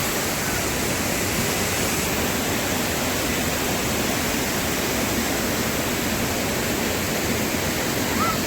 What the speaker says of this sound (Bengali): এই দেখো জলটা এখান দিয়ে পড়েছে